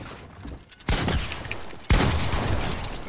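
Two sharp gunshot bursts crack out in a Fortnite-style build fight, each a loud sudden blast with a lingering tail over quieter background.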